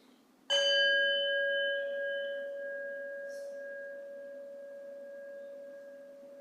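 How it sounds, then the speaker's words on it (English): A single struck meditation bell rings once during a church service, a clear bright tone with a steady hum beneath it that rings out and decays slowly over several seconds in a quiet room. "In a moment, we'll hear the bell ring again"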